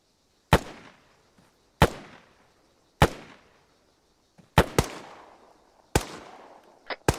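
Single gunshots at firearms training, sharp loud cracks each followed by a decaying echo, spaced about a second apart with a quick double shot and a closing pair, no talk.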